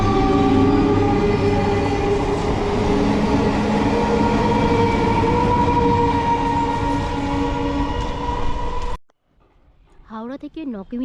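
Train pulling into Belanagar railway station near Bali and Dankuni, a loud sustained rumble of wheels and carriages with tonal squeals for about nine seconds before cutting abruptly to quiet, where a faint warbling whistle-like sound follows.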